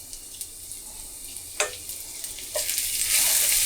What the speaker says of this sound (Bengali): এখন এগুলোকে একটু ফোড়ন আসার জন্য অপেক্ষা করতে হবে।